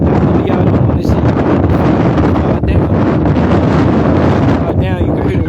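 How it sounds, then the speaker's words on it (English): Strong gusting wind on a hiking trail buffets the microphone in a loud, continuous roar, with faint rustling and brief talk over it. "you can hear the wind"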